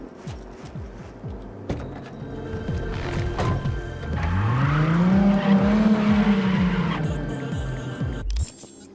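A Nissan 200SX tears along a street in Cyberpunk, its engine revving up through rising pitch sweeps with tires squealing as it skids and accelerates, loud and close throughout.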